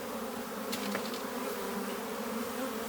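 Honey bees buzzing inside a hive box during a transfer to a new hive, a steady droning hum with a few brief sharper buzzes of individual bees passing close.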